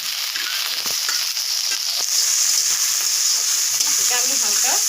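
Dried shrimp and potatoes fry lightly in a pan, giving a continuous bright sizzle with occasional soft stirring clicks and a brief faint murmur near the end.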